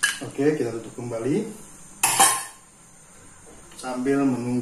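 A metal lid clanks down onto a cooking pot of snail and taro curry as one sharp, bright clatter in the middle. A person talks before and after it.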